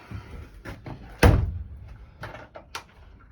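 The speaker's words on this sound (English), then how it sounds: "Get this door latched, keep the heat in." A door at a furnace installation site swings shut with one loud, heavy thud and a short rattle, then softer knocks and clicks as it is latched, close by and without talk.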